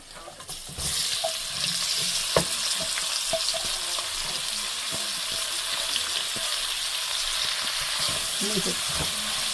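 Onions frying in hot oil in a pan for a spicy fish curry, a steady loud sizzle throughout with occasional clinks and stirring scrapes of a utensil close by.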